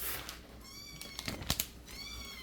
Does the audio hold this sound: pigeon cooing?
no